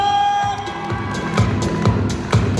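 At a jubilee celebration, a crowd claps in loose rhythmic bursts while children cheer and shout in a lively, noisy room.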